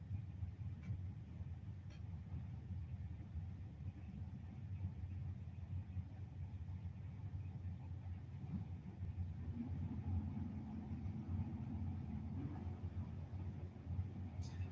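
Drag race between a 1974 Vega and a 1970 Chevy Camaro: a steady, loud engine rumble and roar fills the whole stretch, with a rising mid-pitched engine tone swelling near the end.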